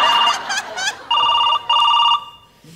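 A telephone rings in repeated electronic trill bursts, loud and close, with a short gap between rings, following brief laughter and voices at a comedy skit party.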